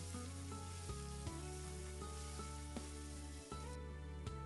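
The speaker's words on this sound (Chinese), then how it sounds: "再把葱姜末加进来，加一把虾皮提鲜，再把香菇也加进来，翻炒均匀，炒出香味。" Potatoes stir-fried with scallion, ginger, dried shrimp and shiitake sizzle steadily in a wok under a low background hum, with occasional clinks of a spatula against the pan.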